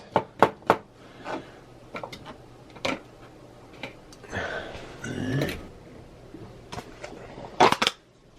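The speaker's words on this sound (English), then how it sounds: "I'm gonna be doing a mushroom gravy. So I'm gonna chop these up first." A knife chopping mushrooms on a cutting board for mushroom gravy, with sharp separate knocks that come in short clusters and pauses, plus a softer scraping stretch in the middle.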